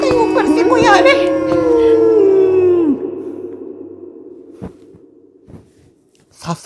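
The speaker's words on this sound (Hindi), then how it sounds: "आपने सुना कुत्ते रो रहा है" A dog howls in a long, wavering cry that slides downward and fades after about three seconds, followed by faint scattered knocks and clicks in a quiet room.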